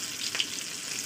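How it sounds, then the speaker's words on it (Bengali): Fish fry in hot oil in a pan, giving a steady close sizzle with a few small pops. "আরও 3টে মাছ দেবো ভাজার জন্য"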